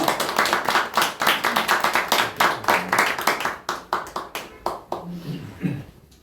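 Seminar audience clapping in a fast, fairly rhythmic burst of individual claps that thins out and fades toward the end, with a voice coming in as it dies down.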